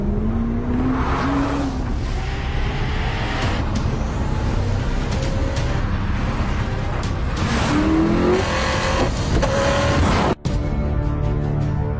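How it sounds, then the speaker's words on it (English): Hennessy Venom GT supercar driving at speed, its loud engine note rising in repeated accelerating sweeps, with roaring passes and shifts along the way. "The Hennessy Venom GT."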